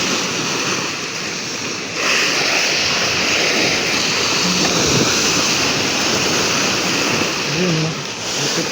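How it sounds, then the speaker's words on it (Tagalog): Big ocean waves crashing along a shore, a continuous roaring wash of surf with a surge near the middle, loud and close, wind mixed in, a faint voice briefly underneath. "Kalalaki ng alon."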